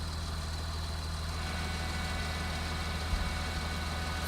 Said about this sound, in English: the loud noise the tractor and tanker make